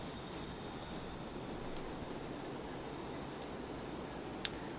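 A train runs in the video game Transport Fever 2 with a steady, dense rumble of rolling wheels, plus faint high squeals and a brief clank near the end, heard without talk.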